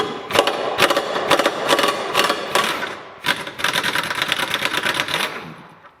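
An impact gun rattles in rapid, loud bursts while undoing the left-side subframe bolts on a Volvo 850, two long runs of hammering separated by a brief pause, fading out at the end.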